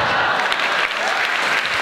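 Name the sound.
theatre audience applause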